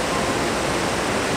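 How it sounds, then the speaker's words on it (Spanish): Iguazu Falls, a vast waterfall system of hundreds of drops, roars as a steady, dense wash of water noise that stays even and unbroken throughout. "son 275 saltos de agua que hay en las cataratas de Iguazú"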